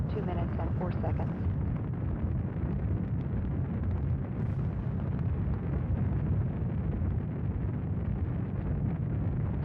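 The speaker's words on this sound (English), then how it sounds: "Standing by for separation of these solid rocket boosters at 2 minutes and 4 seconds." Space Shuttle Endeavour's solid rocket boosters separating during launch, heard as a continuous loud, broadband roar with rumbling low end and wind-like buffeting, steady throughout with a few brief bursts early on.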